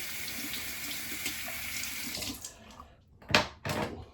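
A bathroom tap runs steadily for rinsing a freshly shaved face, a close continuous hiss of water that tapers off, followed by a couple of short splashes and drips.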